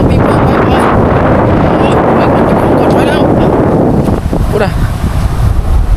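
Strong wind buffets the microphone at a fishing campsite by the water, a loud, continuous roar that eases slightly near the end.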